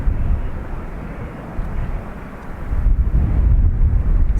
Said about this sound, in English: So ATR 72 off to Newquay.